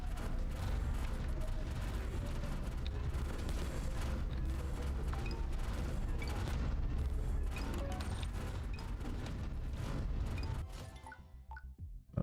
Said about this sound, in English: Why not have some more explosions, right?